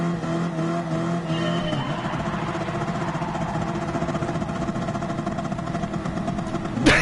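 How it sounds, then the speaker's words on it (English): A race car doing a burnout at Bathurst in a video game: a steady, loud engine roar held at high revs for several seconds with no breaks, ending in a brief sharp burst at the end. "we could do a burnout to warm the tyres up"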